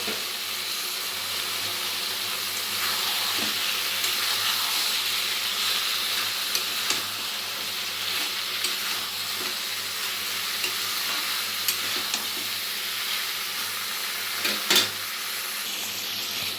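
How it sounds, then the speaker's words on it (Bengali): Chopped ridge gourd stir-fries in an oil-rich spice paste in a pan, a strong continuous sizzle and hiss lasting throughout, with occasional utensil scrapes and a sharper knock near the end. "এবার আমি দিয়ে দেব কেটে রাখা ঝিঙেগুলো খুব ভালোভাবে কষিয়ে নেব"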